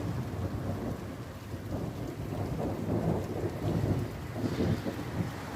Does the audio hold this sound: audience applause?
no